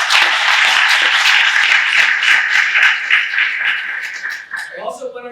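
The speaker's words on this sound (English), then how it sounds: "let's give a round of applause for them." Audience at a breakfast Q&A session breaking into sustained applause, dense overlapping clapping from many hands filling the room for several seconds before tapering off as a voice begins speaking.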